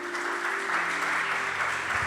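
Church congregation giving applause during a sermon, a short steady burst of many hands clapping at moderate distance.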